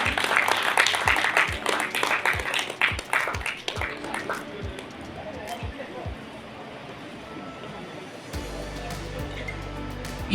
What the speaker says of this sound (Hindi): जोरदार तालियां बजती रहनी चाहिए।